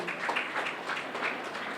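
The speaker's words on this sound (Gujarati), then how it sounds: "એકવાર જોરદાર તાળીઓ થઈ જાય" Audience applause at a Gujarati district award ceremony honouring mothers, a steady wash of many hands clapping at moderate volume throughout, fairly distant and even, with no voices over it.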